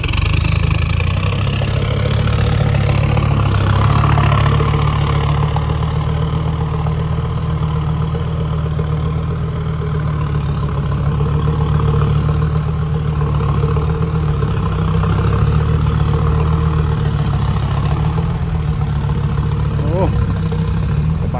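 A Kobelco SK200-1 excavator's five-cylinder diesel, rated around 202 horsepower, idles steadily at close range, a continuous low rumble with a faint uneven beat that holds at one level throughout.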